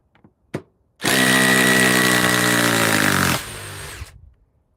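A power drill fitted with small-head bits revs up sharply after a brief tap, whining steadily at high speed for about two seconds, then drops to a lower tone and winds down; loud, close and alone.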